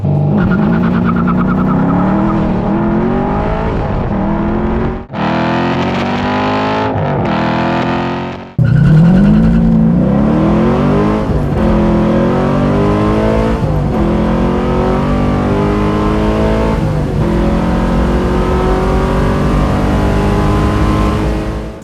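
An LS1 V8-swapped Honda S2000 roars through repeated hard revs and accelerations, its loud engine note climbing in pitch, briefly cutting off, then pulling again through several gear changes, close and dominant with no talk.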